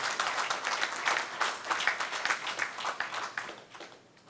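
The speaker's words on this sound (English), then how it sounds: "So big round of applause to ourselves first." An audience at a university alumni connect event applauds, with steady dense clapping that fades toward the end. It is moderately loud and heard without speech.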